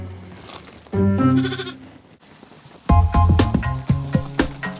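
An orphan lamb bleats loudly and close by in a series of wavering, harmonic cries, with short pauses between calls.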